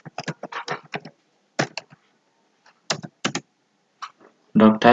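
Bursts of fast keystrokes on a computer keyboard while writing HTML code, irregular clusters of crisp close taps separated by short pauses, with a brief voice at the end.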